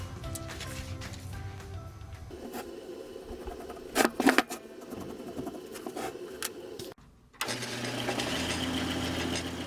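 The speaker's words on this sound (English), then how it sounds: "And cut that top profile on the bandsaw." A bandsaw cuts the top profile of a wooden block for a bufflehead duck decoy body: a steady mechanical whir that deepens as the blade bites, with a brief louder burst midway and a short drop before it resumes.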